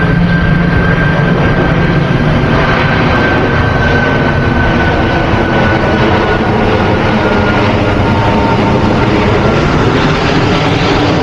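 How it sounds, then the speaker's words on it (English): A military plane flying by outdoors, a loud broad roar that stays steady and close for the whole stretch, heard alone without talk. "let me let the plane go by. Military plane."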